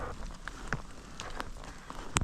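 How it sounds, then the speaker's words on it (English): Rain falls on a mountain hiking trail on the way to Ice Lake, a steady soft hiss with scattered sharper drops pattering close by, no voices. "And now here comes the rain again."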